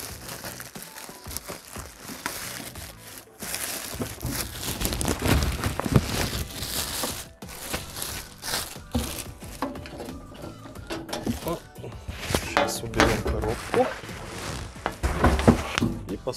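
Loud, irregular crinkling and rustling of a polyethylene bag being pulled off a CATA Armonia 60 X concealed kitchen hood, in bursts with brief pauses.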